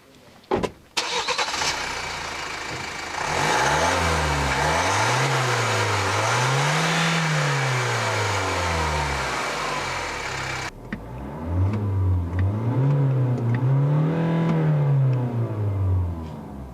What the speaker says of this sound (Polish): Posłuchajcie teraz, jak brzmi ten silnik od strony ukrytej jedynej rury wydechowej.